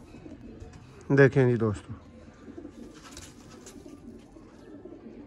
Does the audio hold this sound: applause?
no